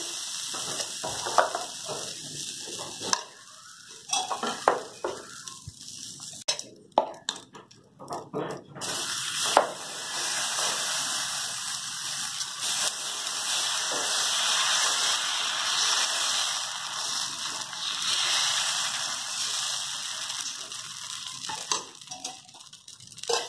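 Salted water hissing and sizzling on a hot iron pan before making dosa, a loud spray-like crackle that builds and holds steady, with scraping clatter of utensils and brief speech in between.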